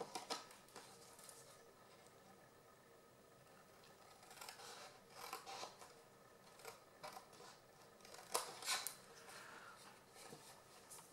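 Scissors snip through card for mini cards and a box, a series of quiet, faint cuts and rubbing sounds with a few sharper clicks, close by and without talk.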